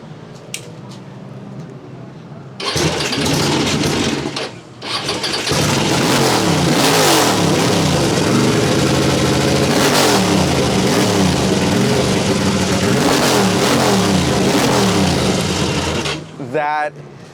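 A 1983 Ducati TT2 vintage racing motorcycle fires up after a brief pause and revs hard and loud, its engine barking through repeated throttle blips and sustained high revs close by before cutting off.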